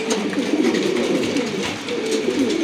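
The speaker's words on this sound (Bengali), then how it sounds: "এক জোড়া কিন্তু চড়েরা কবুতর আছে মাশাল্লাহ, খুবই সুন্দর।" Fancy pigeons, local and foreign breeds kept for sale, coo continuously and close by in a dense, overlapping murmur of soft throaty calls, with no talking.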